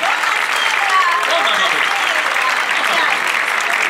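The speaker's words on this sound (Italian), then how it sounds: "Signore e signori, un applauso per Julia Majarchuk" A live comedy-show audience gives loud, continuous applause welcoming a performer onstage, a dense wash of clapping with a few cheers and murmured voices mixed in underneath.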